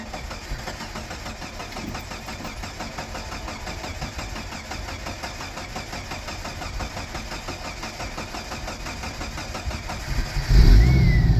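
An old truck engine, the Plastiram, cranking with a steady rhythmic starter churn for about ten seconds before catching and roaring louder at the end, close, no talk.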